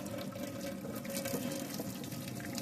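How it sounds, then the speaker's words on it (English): Water is drained from a cooking pot while making dried fish choka, giving a soft, steady trickling splash at close range with no talking over it. "Just want to drain the water out."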